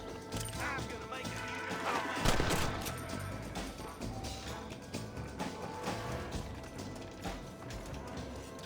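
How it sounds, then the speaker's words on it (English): Gunfire in the Western video game Red Dead Redemption, with a dense burst of shots and clatter standing out around the middle amid continuous game noise, music and effects throughout. "Not a bad shot, Mr. Marston."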